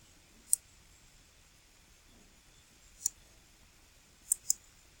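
Sharp computer mouse clicks, four in all, spaced irregularly with a quick double near the end, close and crisp against a quiet room.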